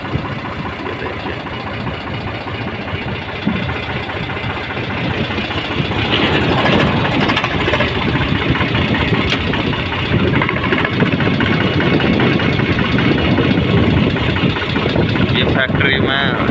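A Mahindra 415 Yuvo tractor's engine runs at a steady, low, continuous idle nearby while someone talks over it.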